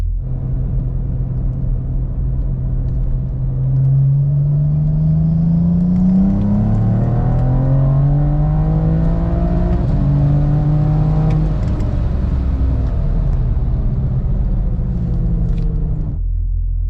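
A BMW 335i with the N54 engine accelerates hard, its loud, close engine note climbing steadily in pitch through several gear changes before cutting off abruptly, with no talking.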